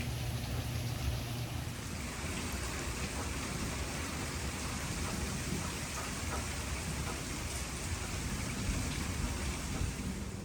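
Steady rain falls outdoors in a dense, even hiss of drops pattering on surfaces, continuous and moderately loud from start to finish with no voices.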